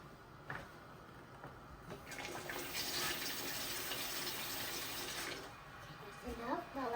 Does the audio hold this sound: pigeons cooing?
no